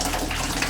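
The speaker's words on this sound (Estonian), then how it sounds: "Põhimõtteliselt nüüd ei ole muud, kui lihtsalt ootame, kuni see vesi siin vaikselt jookseb" Water drains steadily out of a water heater tank, a continuous close rushing gush of flowing water with no pauses and no voices.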